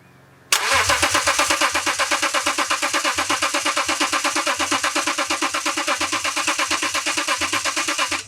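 BMW E36 325i with a rebuilt M54B30 engine cranking, heard as loud, rapid rhythmic starter chugging that begins abruptly and continues steadily for several seconds without catching, with no talking.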